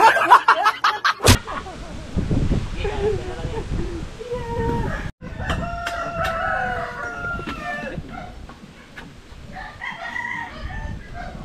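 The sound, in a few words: rooster crowing and chickens clucking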